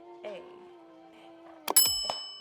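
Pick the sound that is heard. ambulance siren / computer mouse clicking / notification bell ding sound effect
notification bell ding sound effect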